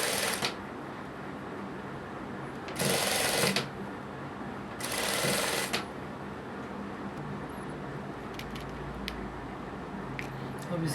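A sewing machine stitches piping onto a kurti neckline in quick bursts amid soft rustling of fabric, with short louder spells of stitching, heard close up and without speech.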